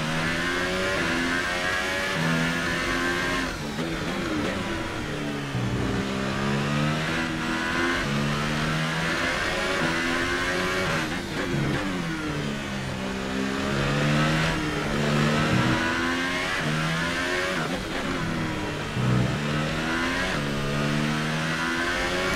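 A Formula 1 race car in the F1 2018 video game, racing a practice session at the Singapore Grand Prix, revs hard and climbs through the gears, its loud, continuous engine note rising and dropping with each shift, no voices over it.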